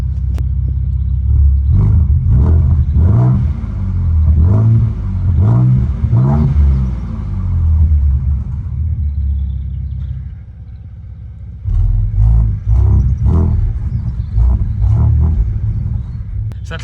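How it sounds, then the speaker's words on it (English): A Ford Ranger Raptor's exhaust in Baja mode gives a loud, deep rumble with revving surges, a pause and then more revs. A voice speaks faintly underneath. "So I clicked it into Baja mode for a second there. You hear it's a bit louder, a bit deeper"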